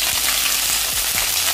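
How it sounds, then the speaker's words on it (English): Small omena fish dry fry in a hot pan with a loud, steady crackling sizzle, close up and continuous, with a few low knocks of stirring. "So what I do first, I dry fry my omena."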